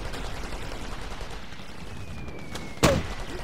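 Gunfire in the video game Operation Flashpoint: Red River: one sharp, loud shot rings out near the end over a steady low background hum.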